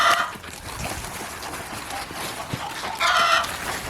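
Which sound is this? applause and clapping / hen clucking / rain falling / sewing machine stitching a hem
hen clucking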